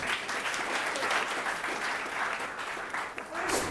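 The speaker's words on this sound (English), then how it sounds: "big round of applause for her." An audience claps and applauds steadily for several seconds, a dense crackle of many hands, with faint voices mixed in.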